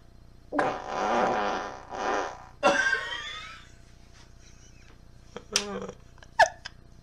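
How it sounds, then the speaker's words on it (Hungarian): A long, loud fart followed by several shorter bursts, interspersed with laughter and brief talking nearby. "Milyen a sok fingás?"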